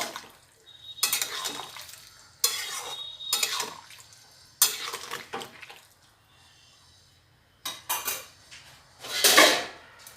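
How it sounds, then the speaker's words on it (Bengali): A spoon scrapes and stirs sukto, a mixed vegetable curry, in a metal cooking pot. Several loud bursts of clanking and scraping are separated by quiet gaps, with no voices heard. "এবার আরেকটু নাড়িয়ে দেবো"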